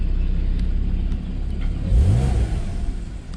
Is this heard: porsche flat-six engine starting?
yes